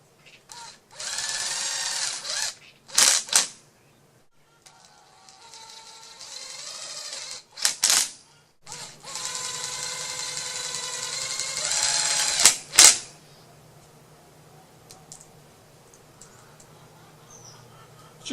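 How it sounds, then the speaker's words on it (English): Power drill driving 1/2 inch tapping screws into PVC pipe for a chicken coop composter, several loud whirring bursts of a few seconds each with short pauses between, the last run ending in a sharp click. "Shooting these screws into the PVC requires a little judgment."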